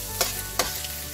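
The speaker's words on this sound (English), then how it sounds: "So my onions are cooking down nicely." Onions cooking down in a pan give a low, steady sizzle, with two brief stirring scrapes close by and no talking.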